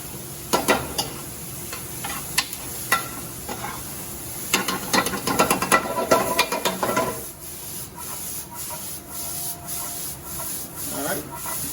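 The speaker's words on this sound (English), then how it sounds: "I got it at high heat, so it's cooking fast." Food sizzles in a pan over high heat while being tossed, with sharp scraping and clattering bursts over a steady fry that settles into a softer sizzle.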